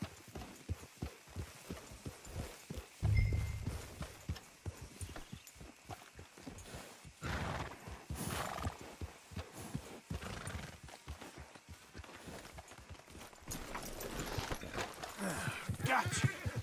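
Horses in a Western ranch setting from the Red Dead Redemption 2 video game: rhythmic clip-clop of hooves with a sharp neigh rising partway through, moderately close, over low ambient background.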